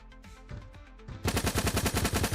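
An SMG in an indie shooter game still in development cuts in with a loud, rapid burst of automatic fire, about a dozen evenly spaced close shots following a quieter lead-in of clicks and tones.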